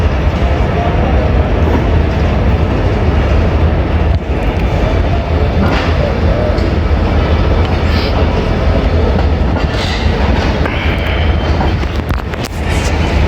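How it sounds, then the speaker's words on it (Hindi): Railway coaches of the Tezgam Express roll into a station with a loud, continuous rumble and rhythmic clatter of wheels on rails, close by and filling the whole stretch. "इसकी जो लाहौर कोटे की कोचेज़ हैं वो आ रही हैं"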